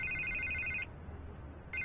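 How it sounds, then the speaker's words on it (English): Telephone ringing in Batman: The Telltale Series video game: a loud electronic trill rings for most of a second, pauses, then starts again, over a low background hum with no talk. "I can't get the phone to stop ringing."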